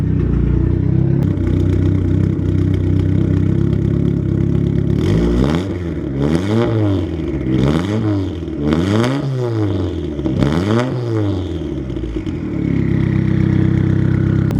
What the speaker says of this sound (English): He goes and kicks the AC on, and then makes sure the idle's good with the AC on.